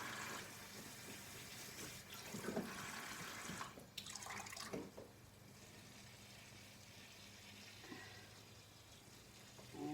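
Water trickles and splashes softly while seedling pots are watered, with a faint continuous pouring and dripping sound close by and no talking.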